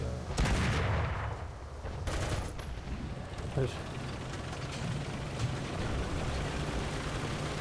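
In the War Thunder game, an M4A2 Sherman tank fires its 105 mm gun: one loud booming shot with a sharp onset and a fading rumble, followed by mechanical clanks and further gunfire amid steady game noise.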